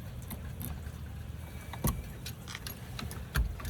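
Keys jingle and clink in small bursts, with two sharper metallic knocks standing out over a low background rumble.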